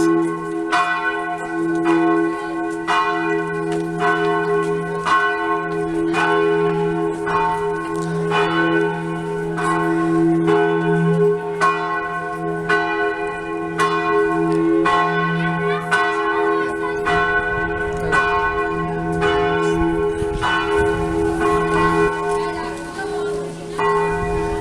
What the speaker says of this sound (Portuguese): O sino tá tocando meio-dia.